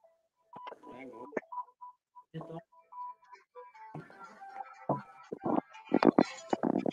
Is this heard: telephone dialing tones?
yes